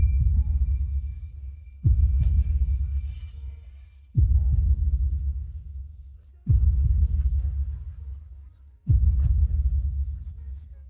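A heartbeat sound effect: four deep, booming low thumps spaced about two seconds apart, each striking hard and then fading slowly into a steady rumble, with no voices.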